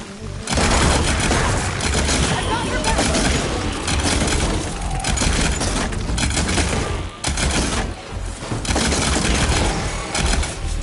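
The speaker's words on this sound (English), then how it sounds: "See those glowing crystals? Takes one hit to detonate." Volatile glowing crystals exploding in Horizon Forbidden West: a rapid, loud barrage of booms and cracks rolling almost continuously for about ten seconds, with only brief dips between blasts.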